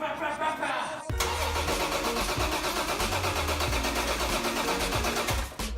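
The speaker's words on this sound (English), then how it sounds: "I'll leave you guys off with a sick exhaust note as promised at the end of every video." A classic Ford Mustang engine cranks briefly, then catches and settles into a loud, steady exhaust rumble that runs close up for several seconds before cutting off.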